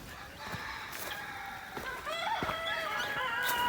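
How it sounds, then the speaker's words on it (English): A gosling in distress calling with repeated high, thin peeps among farm birds, other fowl clucking and calling around it at moderate distance. "I hear a gosling in distress"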